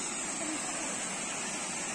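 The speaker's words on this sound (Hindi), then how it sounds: "इधर से देख सकते हैं पूरा झरना पूरा बह रहा है" Steady rushing water from the Lapanga waterfall, a continuous broadband wash at moderate level with no talk.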